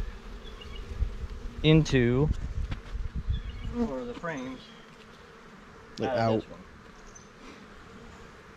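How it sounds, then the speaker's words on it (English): A dense, steady hum of a buzzing honey bee swarm fills the background while people speak briefly over it at intervals. "you can see how nice these bees are"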